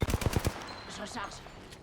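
Rapid automatic gunfire in Apex Legends fires a quick burst of about five close, punchy shots, then fades into fainter distant shots and game effects.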